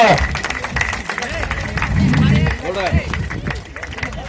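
An audience claps at a village Hanuman Jayanti celebration, a scattered patter of many hands going on under loud speaking voices and crowd noise.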